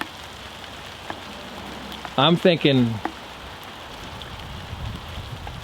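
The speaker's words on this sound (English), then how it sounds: "And it's starting to pour." Steady rain hisses across the whole span around a 1958 Volkswagen Beetle under repair, a soft even wash with a brief burst of talk in the middle.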